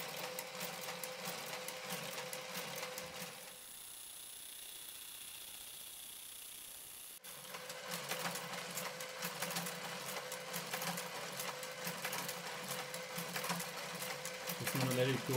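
Brother KG-95 knitting machine with its garter carriage working across rows, a busy mechanical whirring and clatter that stops for a few seconds mid-way and then resumes, close and fairly even.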